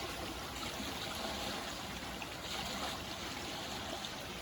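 A river flows steadily nearby, a continuous broadband wash of moving water with faint trickling detail, even and unbroken throughout without voices.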